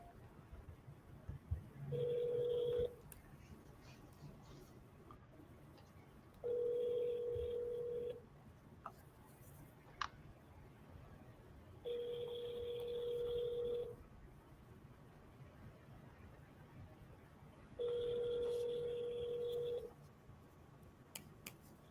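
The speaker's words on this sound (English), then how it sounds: "let me try to call Doris." Outgoing telephone call with four evenly spaced ringback tones, each about two seconds long and separated by roughly four-second gaps, heard alone with faint room noise between the rings.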